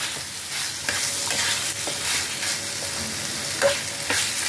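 Pointed gourds are stirred into grated coconut frying in a pan, giving a steady close sizzle with light intermittent scraping of the spoon.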